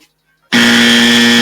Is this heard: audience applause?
no